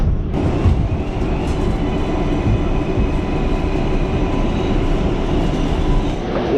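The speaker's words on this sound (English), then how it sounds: "Running to the subway, getting on it right now." Inside a New York City number 3 line subway train, a loud, steady rumble of wheels and car noise continues throughout, close and enveloping, with no talking.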